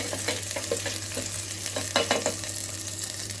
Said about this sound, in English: Just fry it for 2 to 3 minutes